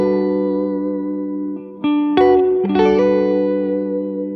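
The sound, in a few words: guitar pinky hammer-on, soul guitar lick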